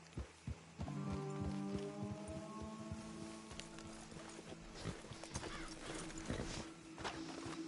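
Horses clip-clopping on a road in the Red Dead video game, steady hoof beats close by over background ambience and a sustained tone.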